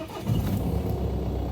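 A single-turbo TDI car engine catching and settling into a rough idle with a dull rumble, close by, with a split or detached boost pipe.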